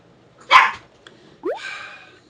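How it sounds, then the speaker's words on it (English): A dog barks twice indoors, a sharp close bark followed about a second later by a rising yelping bark, with quiet room tone between. "Sorry about the dog."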